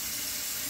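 Steady rush of water flowing from a Bluevua countertop RO water filter dispenser, close and fairly loud, a brief continuous pour with no pauses.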